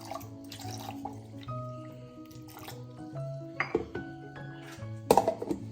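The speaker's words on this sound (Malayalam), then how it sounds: "കുറച്ച് വെള്ളം ഒഴിച്ചു കൊടുക്കുക" Water is poured into a mixer jar while grinding dosa batter with small onions and salt, giving splashing and clinking sounds with a few sharp knocks of the jar, close and fairly quiet.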